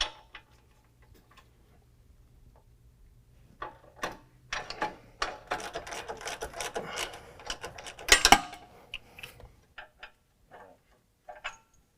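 A 21mm wrench works the drag link bolt and nut on the axle of a 2018 Jeep JL two-door, a run of quick metallic ticking ratchet clicks in the middle, with scattered single clicks before and after in a quiet garage.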